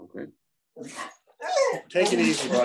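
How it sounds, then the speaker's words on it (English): A pet dog barks a few times in the background, with short yaps breaking through between and under a person speaking nearby. "That's my dog in the background"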